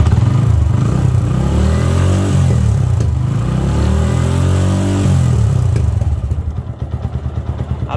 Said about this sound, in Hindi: हम फिर से इसको सेल्फ स्टार्ट देते हैं।